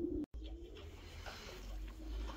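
Pigeons cooing from a loft kept for flying and feeding, a low steady murmur close by with soft, faint calls on top, no speech.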